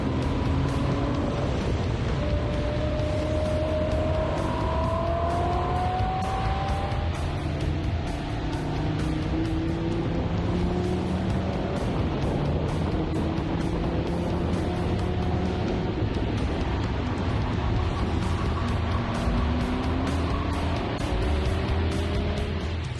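A Lamborghini driven fast around a race track gives a steady, loud engine roar, its pitch climbing and falling repeatedly through gear changes for the whole stretch.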